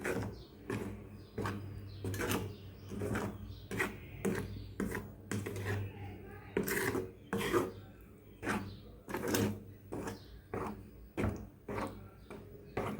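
Carrot halwa being stirred in a pan, close and fairly loud, with rhythmic scraping and knocking strokes of a spoon against the pan repeating about every half second over a low sizzle.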